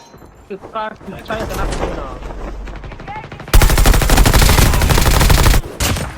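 Video game gunfire in a shooter match: bursts of rapid automatic fire and single shots, loud and close, rattling continuously through the second half, with people talking over the earlier part.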